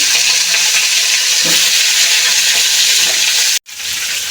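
Cut flat beans fry in hot oil seasoned with a bay leaf, a dried chilli and whole cumin, making a loud, continuous, close sizzle that briefly cuts out just before the end.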